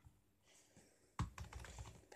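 A computer keyboard being tried out after unboxing: quiet at first, then a burst of rapid key clatter, close and fairly soft, with no talking.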